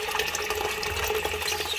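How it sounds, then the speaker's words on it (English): Water rushes and splashes continuously from an overflowing toilet cistern, a steady close-up gush. "but the water's overflowing"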